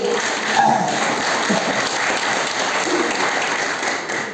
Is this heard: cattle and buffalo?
no